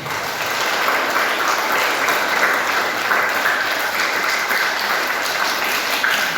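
A room full of students claps steadily, a sustained burst of applause at even volume throughout.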